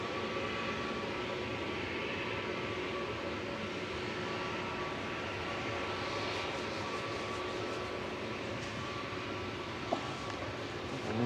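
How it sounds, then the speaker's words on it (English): An Aegean Airbus A320neo departing Manchester Airport, a faint, distant, steady jet rumble holding evenly throughout with a single small knock near the end, no voices. "Departing next to Athens is SXNEM and A320neo for Aegean."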